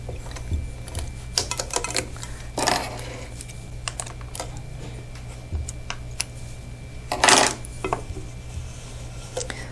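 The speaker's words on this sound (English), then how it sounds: "Put my foot down and go ahead and sew off." A sewing machine stitches quilt pieces in short bursts of rapid mechanical clatter. Faint ticks and handling noises fill the gaps against a low background hum.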